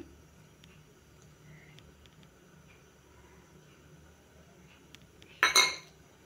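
A kadai set down on a stove brings one short metallic clank of pans near the end, after a quiet stretch of faint kitchen background.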